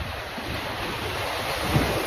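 Choppy sea waves wash against a beach in Ilocos Sur, a steady broadband rush of surf with wind buffeting the microphone.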